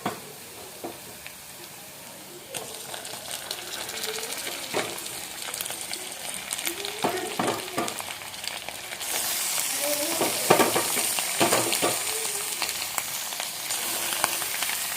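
Washed chicken pieces drop into hot oil with whole browned garlic cloves, setting off a loud, steady sizzle that swells midway, with scattered scraping stirs and clatter over the frying.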